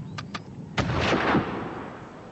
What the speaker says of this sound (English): The Boers now used a signaller on Spion Kop to direct their artillery fire precisely onto the British trench.